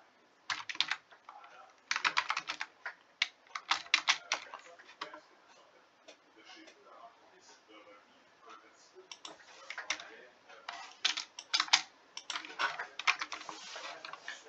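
Code being typed on a computer keyboard while writing a Roblox script: bursts of quick, close key clicks with short pauses between flurries, steady and moderately loud, with no voices.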